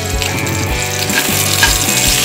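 Dried red chillies, mustard seeds and urad dal fry in hot oil in a pan for a South Indian keerai kootu, giving a steady close sizzle with crackling pops and spatters throughout.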